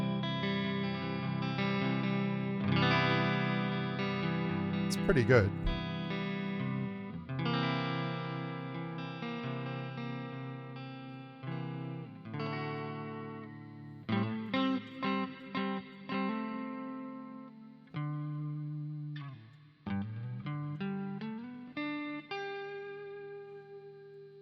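An electric guitar plays through a Flamma FX10 headphone amp's Fender '65 Twin Reverb amp model, strummed chords and single notes ringing with reverb for about twenty seconds, with a brief spoken comment near the start.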